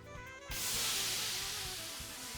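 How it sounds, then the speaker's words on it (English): A steam-driven flying machine in the Code: Realize video game lets off a sudden loud blast of steam, a broad rushing hiss that cuts in over a low rhythmic mechanical pulsing and holds steady for the rest of the moment. "The machine shoots off out a blast of steam and its wings begin to flap."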